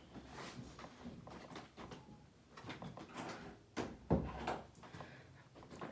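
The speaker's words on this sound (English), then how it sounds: "I'm gonna close the door." A door is closed indoors at home, with a few soft handling clicks and rustles leading to one firm thud near the end, quiet overall.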